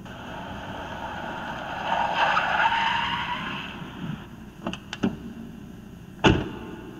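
A car arrives with a swelling rush of tires and engine that peaks and fades, followed by a few sharp clicks and a louder door-like thud near the end.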